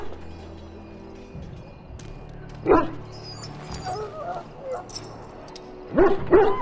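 A wounded dog in the Dragon Age: Origins video game whimpers and gives a few short yips and barks, brief bursts over a low ambient game background with a voice faintly present.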